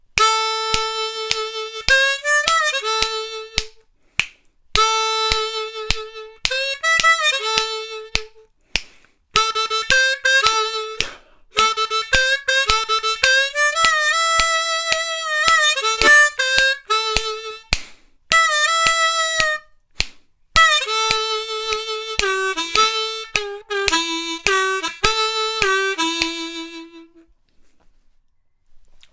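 Diatonic harmonica in D plays a blues tune, a solo, fairly loud run of held and bent notes in phrases with short breaks, no voices.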